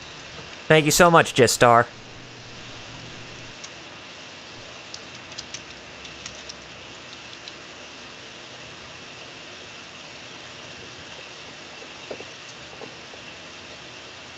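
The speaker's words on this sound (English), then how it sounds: "In-game rain." In-game rain from the Suikoden video game hisses softly and steadily throughout, faint and even, after a brief spoken voice at the start.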